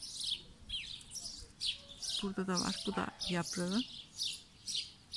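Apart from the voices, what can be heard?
birds chirping outdoors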